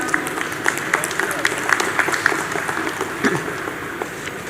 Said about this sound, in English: Please welcome her warmly with a round of applause.